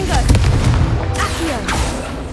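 A Confringo blast spell from Hogwarts Legacy goes off with loud booming bursts and rumbling impacts, several close explosive cracks in quick succession over a dense low roar, with game sounds layered throughout.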